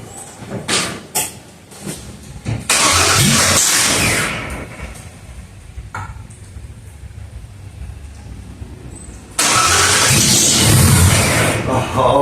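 A 1956 Ford F100 engine bursts into loud roaring runs twice, with sharp pops and knocks before them and a quieter rough stretch in between.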